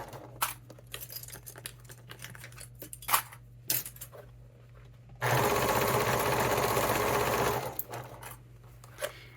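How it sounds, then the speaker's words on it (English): Sewing machine stitching through many layers of fabric for a Yuletide stocking, a loud, even whirring run of about two and a half seconds between scattered clicks and handling knocks nearby. "I'm gonna sew all the way around."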